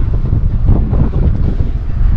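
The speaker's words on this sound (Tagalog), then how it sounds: "Narinig yung hangin bro, tinutulak tayo." Strong wind buffets a group of cyclists out on a ride, a loud, steady broadband rush roaring across the mic throughout, with no clear voices.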